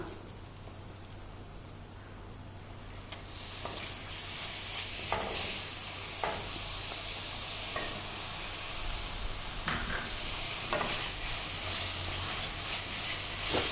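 Minced mutton keema sizzles and crackles in a pan while being stirred, a steady dense fry hiss broken by sharper scraping stir strokes and pops, close and loud with no talking.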